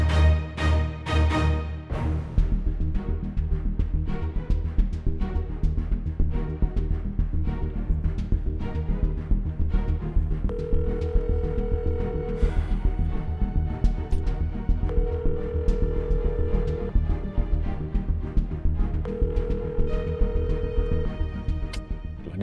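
A phone call goes unanswered with a repeating ringback tone, long beeps recurring at even intervals, heard faintly under a busy backdrop of music and room noise.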